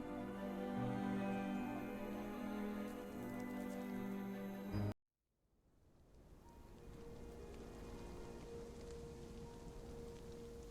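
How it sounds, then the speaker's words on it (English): Steady rain downpour hissing across a wide band, continuous and fairly loud, as a storm sets in during a tabletop role-playing game; one stretch of dense rain cuts off abruptly into near silence, then another softer, even rain swells back in. "A little bit of a downpour at the moment."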